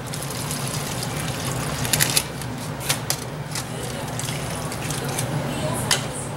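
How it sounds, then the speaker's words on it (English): Braising liquid poured and spread over racks of ribs in a pan before oven cooking, a steady close splashing, dripping wash with a few sharper wet drips and taps. "So I'm gonna try to do my best to distribute this braising liquid evenly."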